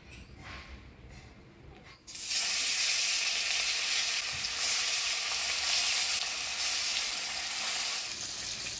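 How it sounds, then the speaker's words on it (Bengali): Pieces of catla fish hit hot oil in a village kitchen: a quiet background gives way to a sudden loud, dense sizzle that holds steady and close for the rest of the clip. "এবার আমি মাছটা ভাজা বসিয়ে দিই।"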